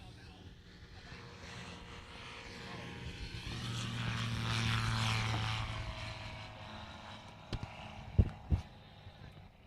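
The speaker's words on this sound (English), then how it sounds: "That's the Aeropract A22LS that just took off" An Aeropract A22LS light aircraft takes off at an airshow, its engine drone swelling steadily to a peak mid-clip, with a few sharp knocks and faint voices in the background near the end.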